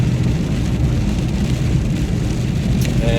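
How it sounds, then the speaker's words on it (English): Heavy rain falling steadily in London, a dense continuous hiss and patter close by with no voices. "it's raining pretty good"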